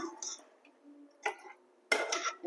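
A spoon scraping and clinking against a pot while curry with spice powders and salt is mixed, a few separate bursts of metallic clatter between quiet gaps, close and fairly soft.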